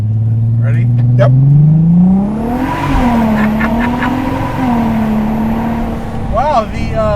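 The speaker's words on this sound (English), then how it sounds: "The VR6 has a real nice note. Got 88 millimeter exhaust, good little bypass on there." Volkswagen EOS VR6 with an 88 mm exhaust and bypass, a 500 whp AWD build, accelerating with top down: a loud engine note sweeps up in pitch, then holds a rising drone, with talk heard over it.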